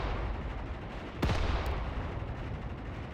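Gunfire and grenade blasts during close-quarters fighting in the war game Mius Front, a dense rumbling wash of distant battle noise with one sharper crack and boom near the middle.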